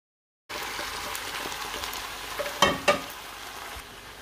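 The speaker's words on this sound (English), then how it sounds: "Once I've added the noodle, I'm going to begin to stir on that." Stir fry noodles with soy sauce sizzle in a hot pan as they are stirred with a spatula, a steady close hiss broken by a couple of sharper scraping knocks, starting after a moment of silence.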